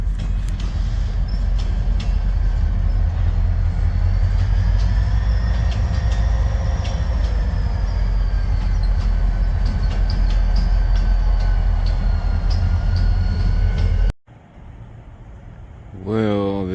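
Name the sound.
freight train arriving on rails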